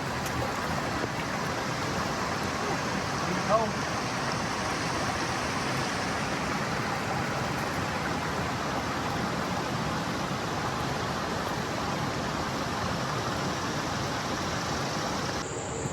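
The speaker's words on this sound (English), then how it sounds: "A little creek flowing into the river." A small creek flowing into a river at a campsite, a soft continuous wash of running water heard steadily at low level with no voices.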